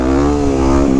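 A Yamaha WR250X motorcycle engine revs hard during a wheelie, a loud close buzzing drone holding a steady pitch with a brief dip near the end.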